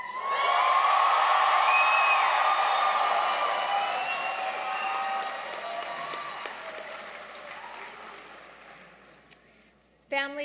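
Graduands at a SAIT fall convocation ceremony cheer and applaud in a loud, sustained burst of clapping with whoops and shouts, gradually fading over several seconds before a voice cuts in at the end.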